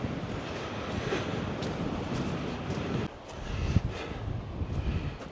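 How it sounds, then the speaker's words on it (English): Blustery sea wind on a beach buffets the microphone in a continuous rushing roar, briefly dipping midway before gusting back up, with no one speaking. "hopefully you can hear this because it's very windy, or very breezy, just a sea breeze"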